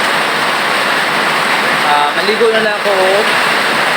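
Steady heavy rain pours down in a dense, even wash of noise, close and loud, while a voice talks over it partway through.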